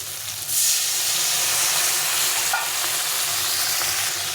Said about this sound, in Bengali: এখানে লঙ্কা গুঁড়ো নুনটা একটু দিতে হবে দিয়ে একটু জল দিয়ে মশলাটা কষিয়ে নিই